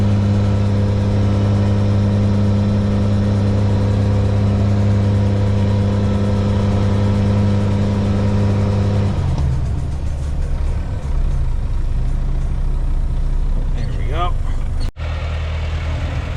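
A vehicle stuck in ruts holds a steady, loud engine drone, then the note shifts as it revs and strains to pull free, ending with a sharp cut.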